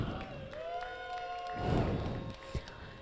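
A crowd at an FTC robotics meet in Iowa cheers and claps for the Red Alliance team, a moderate burst of mixed cheering that swells briefly mid-way over a steady tonal hum, with a thump near the end.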